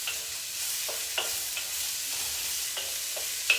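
Vegetables stir-frying in a cast iron wok for a shrimp stir fry, giving a steady close sizzle with occasional brief scraping stirs, no talking.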